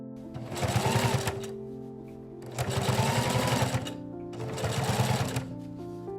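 A sewing machine stitches waist tape into the seam of an 1870s corset in three close bursts of rapid, steady needle chatter separated by short pauses.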